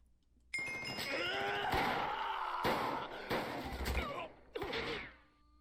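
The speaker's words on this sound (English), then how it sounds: "you will then hear gunshots" Several sharp, punchy gunshots from a modded Minecraft game, fired after the Running Orga item is used, come in an irregular burst of loud bangs with short gaps between them and no talk over them.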